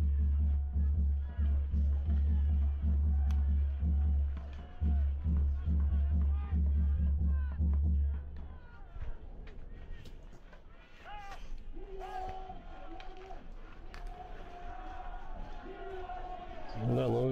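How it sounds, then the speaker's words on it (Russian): Home supporters chanting at a Russian Superliga bandy match between Sayany Abakan and Yenisey Krasnoyarsk, a loud rhythmic crowd roar for the first half that gives way to a quieter arena murmur with whistles and scattered shouts. "Призывы наших болельщиков."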